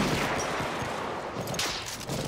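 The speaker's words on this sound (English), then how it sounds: "There's an enemy machine gun!" An enemy machine gun rattles in an online squad shooter, a dense, continuous close burst of rapid fire filling the whole moment without any talk.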